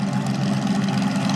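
A34 Comet tank's engine runs steadily at close range as the tank rolls round, a dense, low rumbling drone with a throbbing idle-like pulse and no breaks.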